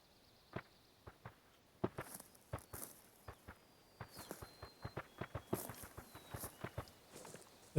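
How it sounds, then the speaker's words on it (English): A bear's footsteps in theHunter: Call of the Wild fall as soft, irregular pats, some in quick clusters, quiet and close, with a faint bird call in the background. "Listen to those footsteps."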